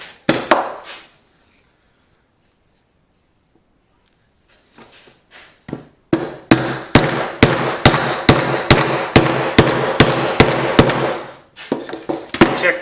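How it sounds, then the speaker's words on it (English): A series of loud, evenly spaced rubber mallet blows on a wooden block over a Mercedes W124 front wheel bearing, about a dozen in quick rhythm, after a few scattered knocks and a quiet pause. "Rubber hammer."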